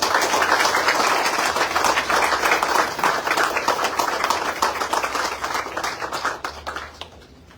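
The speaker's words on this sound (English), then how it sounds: "I want to ask all the staff to give Ron and all of our line managers a big round of applause" Ministry staff at the Works Services Group give a big round of applause for their managers: steady, close clapping from a room full of people that thins out and fades near the end.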